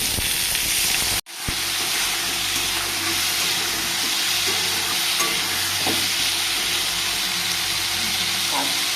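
Ginger, black pepper and red chili powder frying in a pan for a vegetarian pointed gourd curry, a steady broadband sizzle throughout with a brief sharp break early on and occasional small pops and stirring sounds.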